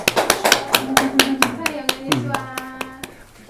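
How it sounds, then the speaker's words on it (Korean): A church congregation claps at a baptism celebration with sharp, evenly spaced hand claps in a quick rhythm that slows and softens after a few seconds, over a sustained tonal background. "여러분 박수해 주십시오"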